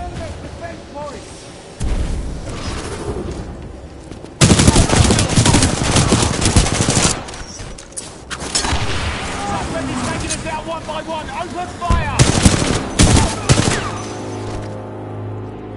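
Titanfall 2 combat brings loud, dense bursts of automatic gunfire and heavy blasts that come in waves, with a game voice talking between them.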